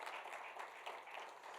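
Church congregation applauding loudly during a Spanish-language sermon on spiritual warfare, a steady dense wash of clapping held through the whole moment at fairly low level, with no voices over it.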